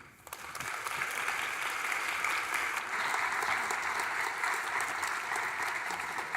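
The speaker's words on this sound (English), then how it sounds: "Let's give them another really big round of applause." Steady, sustained applause from an audience after a neuroscience talk at an evening event, filling the room at an even level throughout with no speech over it.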